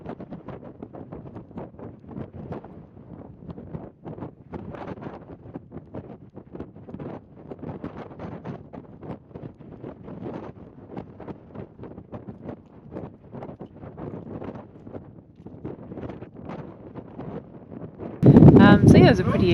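Steady gusty wind buffets the microphone along a lakeside hiking trail in Torres del Paine, Chile, a continuous rough rumble throughout that swells into a louder blast near the end.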